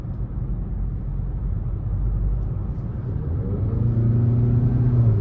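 Engine of a 2023 Nissan Altima SR VC Turbo pulling hard under acceleration, a steady low rumble that swells and rises in pitch toward the end, heard from inside the cabin with no talking.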